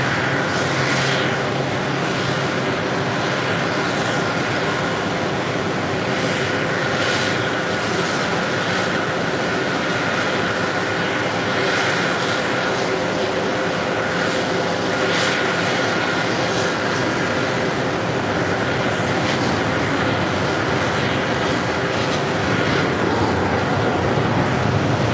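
Jet airliner arriving on runway 4 left at JFK, a continuous loud roar with broadband rumble and steady engine whine lasting the full stretch, heard from close to the airfield.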